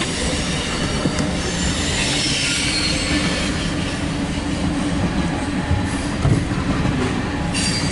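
A CSX mixed freight train rolls slowly past on a westbound move, with a continuous rumble of wagons, squealing wheels and occasional clanks, loud and close throughout.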